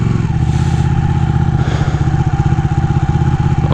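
A Ducati Panigale 1199S Tricolore motorcycle engine runs loud and close, with a steady, throbbing rumble and no talk over it.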